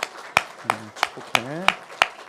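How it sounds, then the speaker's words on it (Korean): A church congregation gives a short burst of applause for a returning staff member, a handful of sharp, separate claps spaced unevenly over about two seconds, with a voice and a brief tone sounding between them. "박수 한번 격려합시다"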